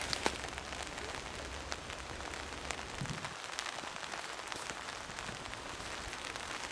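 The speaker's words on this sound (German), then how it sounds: "Es regnet auch ein wenig." Light rain falls in an autumn forest, a faint, steady patter of scattered drops on leaves and ground, quiet and even throughout.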